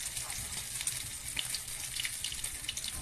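Steady loud sizzling and crackling of rice frying in hot oil, continuous hiss with no voices.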